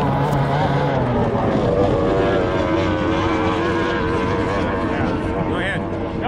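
A loud, droning racing powerboat engine roars steadily throughout at a powerboat race, a dense buzzing hum with a voice faintly underneath.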